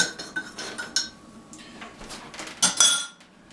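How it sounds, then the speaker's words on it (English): Macaroni, tomatoes and milk stirred in a metal pot, with a utensil scraping and clinking against the sides in irregular bursts, close and fairly loud, with a couple of sharper metallic knocks. "You gotta stir it up a little bit."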